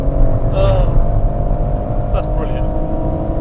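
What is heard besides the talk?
BMW M140i and Ford Focus RS accelerating on Goodwood track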